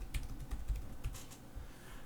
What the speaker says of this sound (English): I'm going to type in the password,